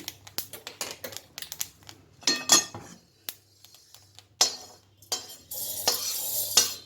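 Dry fenugreek seeds crackle and pop as they roast in a hot pan, a busy run of sharp little snaps with a scrape or two of stirring, close and fairly loud.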